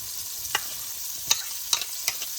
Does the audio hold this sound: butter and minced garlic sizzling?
yes